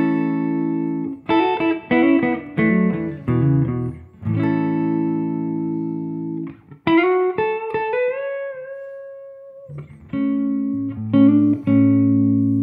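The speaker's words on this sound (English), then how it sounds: "Engage the reverb." An electric guitar played through a pedalboard with the reverb pedal engaged: strummed chords and single notes bloom into long, washy tails that hang after each phrase, loud and close with no talking.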